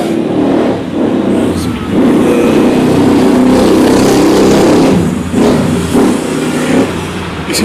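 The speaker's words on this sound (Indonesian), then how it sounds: "Di sini banyak kendaraan dan suara-suara lainnya banyak." Steady roar of many vehicles passing on a busy street, with motor scooters and cars rising and fading in waves, fairly loud and continuous, without speech.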